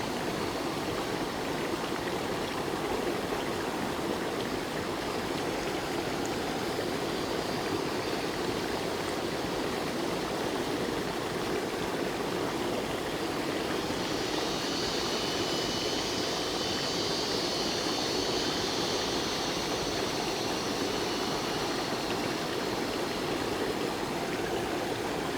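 A hidden waterfall and stream in the Laos jungle rush in an unbroken, dense roar, steady and close for the whole stretch, with no voices.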